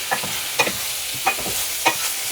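Pork fat rendering in a frying pan, a close crackling sizzle with three or four sharp scraping strokes of a utensil against the pan, no voices.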